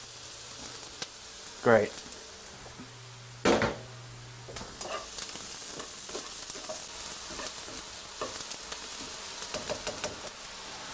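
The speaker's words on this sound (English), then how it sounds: "I'm just going to add the garlic to the pan behind me." Garlic sizzling in a frying pan for a creamy paleo mushroom soup, a soft steady fry heard faintly with a couple of louder clatters and a brief spoken word.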